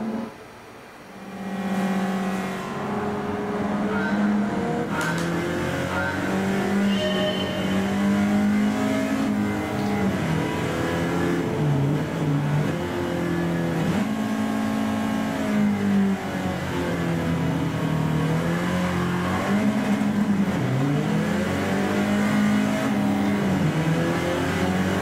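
A racing car engine in Gran Turismo 7 revs and drones continuously, its pitch rising and falling through gear changes and acceleration, loud and sustained with no talking.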